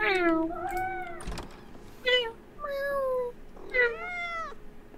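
Cat meowing in the video game Life is Strange: Double Exposure, four close, clear meows spaced about a second apart, varying in pitch and length, with a faint steady hum underneath.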